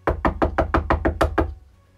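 Eight quick, evenly spaced knocks rap on a wooden door, close and crisp, then fade into silence.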